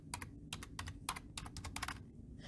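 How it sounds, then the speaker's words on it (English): Keys clatter on a computer keyboard while text is entered in Microsoft Word, a rapid uneven run of sharp close clicks with brief pauses, ending with presses such as the enter key. "you're going to hit the enter key on your keyboard"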